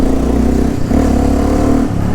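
A loud, close motorcycle engine revving, its deep exhaust note rising and falling in a few quick pulses.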